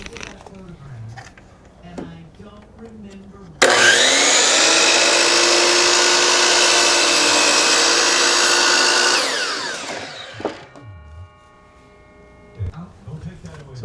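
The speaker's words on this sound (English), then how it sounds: "so I'm gonna cut that with a chop saw." Chop saw cutting a 4.5-inch-wide wood trim piece during water damage repairs: a loud whining motor spins up sharply, runs steadily for about six seconds, then winds down, with speech before and after.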